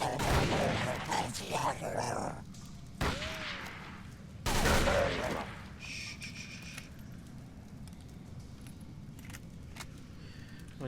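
Gunfire in the horror game Call of Cthulhu: Dark Corners of the Earth, a few sharp loud bursts in the first half followed by quieter scattered clicks and ambient background.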